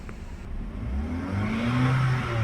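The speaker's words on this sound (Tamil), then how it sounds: "வண்டியை ஸ்டார்ட் பண்ணியாச்சு" Hyundai i10 car engine running just after starting, with the electric power steering warning light on. A close, steady engine hum whose pitch rises gradually as it revs, with no speech.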